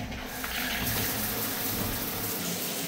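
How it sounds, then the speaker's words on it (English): Water in a Britannia hotel room leaks with a steady, continuous rush and spatter close by, like a tap running full, filling the whole moment without any pauses. "Whatever is leaking has clearly gotten worse."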